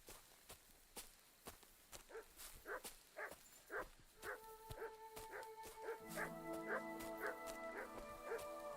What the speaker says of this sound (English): Hearing some dogs.